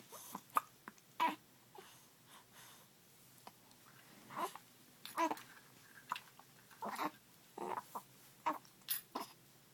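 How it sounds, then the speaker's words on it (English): A baby's hiccups come as short, sharp, irregular catches scattered over several seconds, soft and close, with occasional breathy sounds between them and no talking. "Silly hiccups messed up my smiles this morning."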